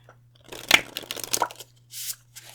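A deck of oracle cards being shuffled, a crisp run of riffling and flicking bursts that rises and falls, close and fairly quiet, with a steady low hum underneath.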